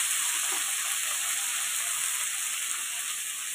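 Potatoes fry in a pan as green chilies go in, a close, steady sizzle and hiss with a faint high whine running beneath.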